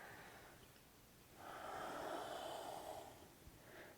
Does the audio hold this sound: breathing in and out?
yes